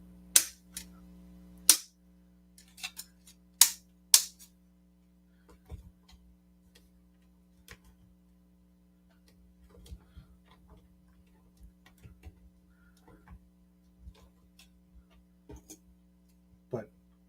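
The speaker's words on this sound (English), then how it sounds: "if you guys never heard the ratchet on the wings of NECA's Gargoyles," Loud plastic ratcheting clicks from the wing joints of a NECA Gargoyles action figure, a few sharp bursts early on followed by a long run of softer, scattered clicks and handling noise over a steady background hum.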